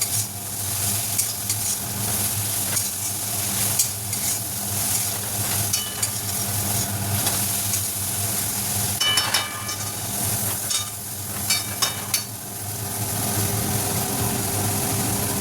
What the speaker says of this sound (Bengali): এবার আমি এর উপরে ডালটা ঢেলে দেবো।